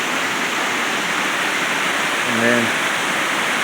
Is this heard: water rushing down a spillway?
yes